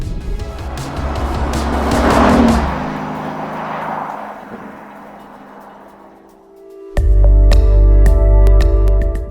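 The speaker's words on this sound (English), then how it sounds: "We're hearing a little bit of what sounds like exhaust noise coming from the front of the car" The exhaust of a 2025 Lamborghini Urus SE rumbles and swells, eases off, then cuts to a loud, steady low drone.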